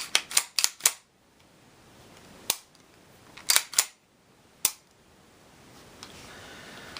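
A TISAS 1911 pistol part pops back into place with several sharp metallic clicks and snaps, some in quick clusters and others spaced apart, close and fairly crisp against a quiet background.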